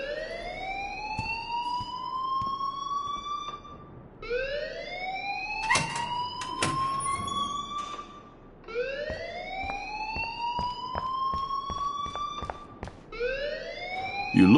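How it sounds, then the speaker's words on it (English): An alarm in the Life is Strange video game wails in repeated rising sweeps, each lasting about four seconds, with sharp clicks and knocks between cycles; no one speaks. "please turn off that alarm since that's your job."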